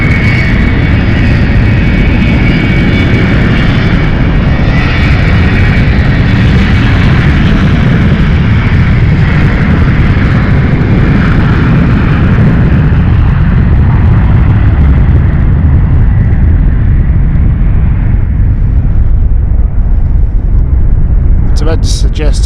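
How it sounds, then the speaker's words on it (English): Heavy aircraft taking off at London City Airport: a loud, sustained roar of jet engines with broad rumbling power that stays close and dense throughout, slowly thinning toward the end. "So that suggests it's a very heavy aircraft, the power they went for here."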